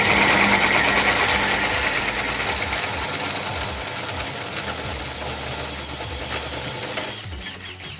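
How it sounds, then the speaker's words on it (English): A deep hole saw chews a notch into a roll cage tube for a Jeep YJ, a loud steady grinding whir with dense rapid chatter that cuts off abruptly near the end, leaving a quieter tail. "You want to prevent that, get yourself some deep hole saws."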